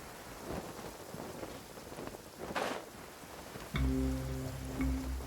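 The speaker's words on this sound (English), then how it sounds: "It's raining again?" Rain in a video game: a steady hiss of rainfall with a swelling rumble of thunder partway through. A sustained tonal musical chord then enters near the end.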